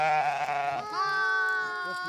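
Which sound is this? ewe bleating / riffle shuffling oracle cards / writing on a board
ewe bleating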